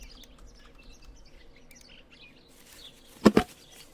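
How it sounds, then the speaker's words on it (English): A sparrow in the video game Martha is Dead gives two quick, bright chirps close by, standing out against a faint outdoor ambience. "Little sparrow."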